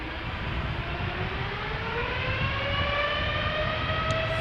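A narrow-body airliner on the Polderbaan runway at Schiphol Airport spools up with a loud, steady engine roar. A rising whine climbs over it and continues without a break.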